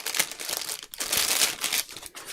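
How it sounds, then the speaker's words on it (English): Thick 140 GSM C6 craft paper envelope being handled at close range, with steady crinkling and rustling of stiff paper in several bursts, no talking. "So what I'm using is one of these craft envelopes, and I'll just measure it for you."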